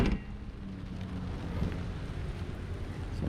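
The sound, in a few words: rain falling outside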